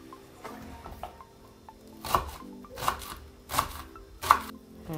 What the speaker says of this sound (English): Cut as much as you like. You can cut the whole piece.